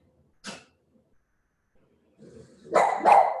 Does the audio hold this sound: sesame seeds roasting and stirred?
no